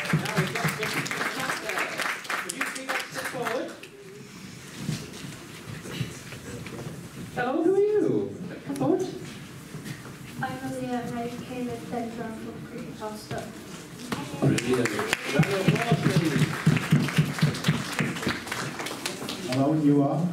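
A crowd at a comic con cosplay contest applauds in bursts, with an announcer's voice and other talk heard between and over the clapping.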